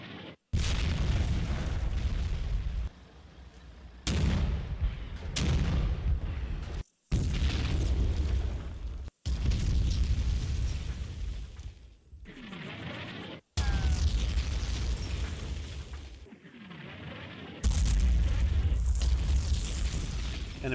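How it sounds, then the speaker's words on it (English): 81mm mortar shells explode on a hill in the video game Combat Mission Final Blitzkrieg, a series of loud, heavy booms, each followed by a rumbling decay, separated by short gaps. "81mm mortars are called in on Hill KT1"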